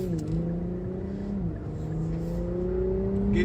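A BMW X5M SUV revs its engine as it drives past, a steady loud drone with rising and falling pitch sweeps, heard alone without talk.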